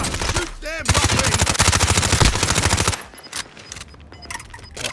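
Rapid automatic gunfire rattles in Call of Duty: Modern Warfare, a dense, loud stream of shots running for about three seconds before breaking into scattered, lighter bursts. A voice cuts in briefly.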